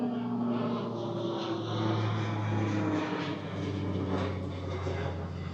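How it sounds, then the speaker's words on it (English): Dash 8 Q400 turboprop airliner flying near the airport by a beach, a steady droning hum with tonal propeller whine held throughout, moderately loud and distant. "Dash 8, one of the Q400s, probably off to Townsville."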